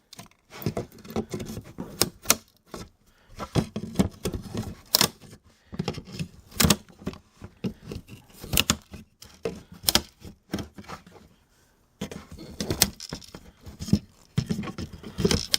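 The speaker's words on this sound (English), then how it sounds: "take these, you're going to cut these supports out now" Side cutters snipping plastic support tabs inside a 2013-2024 Ford Escape speaker, a run of close, sharp clicks and snaps with short scraping handling noises between the cuts, and no speech.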